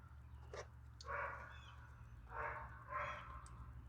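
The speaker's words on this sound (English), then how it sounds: "The dogs are barking at squirrels." Dogs bark at squirrels outdoors, with several hoarse, muffled barks at a moderate distance in uneven bursts over a steady low hum.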